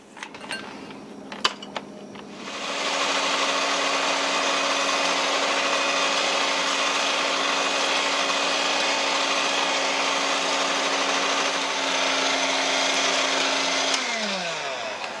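An electric hand mixer beats cream with confectioner's sugar for a strawberry cream pie, a steady loud whirring drone running from about three seconds onward after a few quiet clicks, then winding down at the end.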